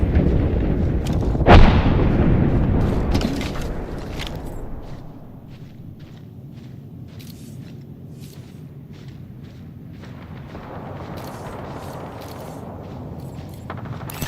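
Gunfire in a shooter video game: a loud blast near the start followed by rumbling echoes, then quieter clicks and rattles of reloading and scattered footsteps over a low ambient bed.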